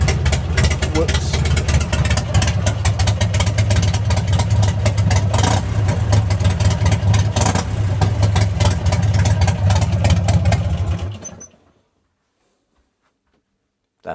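A Buell XB motorcycle engine idles loud and close through a rusty, crusty exhaust muffler, a steady rumble for about eleven seconds before it cuts off into silence.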